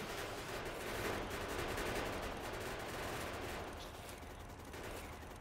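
A gun turret rattles off continuous rapid automatic fire during a Factorio wave defense, a steady dense stream of shots at moderate level, easing slightly toward the end.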